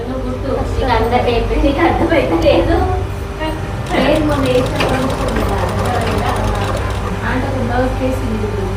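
A sewing machine stitches piping with a steady, rattling motor hum that runs throughout, while someone talks over it in a training class.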